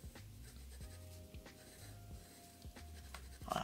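Platinum 3776 fountain pen nib scratching across paper in soft, repeated strokes, faint and close, with light breathing in the background.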